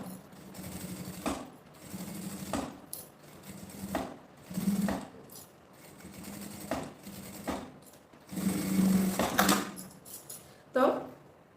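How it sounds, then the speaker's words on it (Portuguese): A sewing machine stitches along the edge of bias binding on a small multipurpose organizer pouch. Short, rattling bursts of stitching repeat with brief pauses and light clicks between them, close and moderately loud. "vou passar a costurinha na beiradinha aqui desse viés para rebater"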